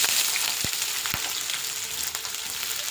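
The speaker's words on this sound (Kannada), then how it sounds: "ಚೆನ್ನಾಗಿದೆ ಫ್ರೈ ಆಗ್ತಿದೆ." Green chilies and a large onion fry in about 50 grams of oil for pepper chicken, giving a bright, constant sizzle with a couple of sharp knocks from a spoon early on.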